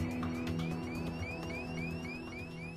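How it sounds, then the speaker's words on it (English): A cockpit cabin altitude warning horn sounds on a recording from an airliner crash, a rapid run of repeating rising electronic chirps over a low engine hum, steady and fairly faint. "That's the cabin altitude warning."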